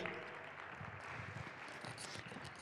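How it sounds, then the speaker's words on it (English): An audience claps steadily and continuously in a conference hall, welcoming a speaker onto the stage, with dense, even applause throughout and no talk. "Round of applause, please."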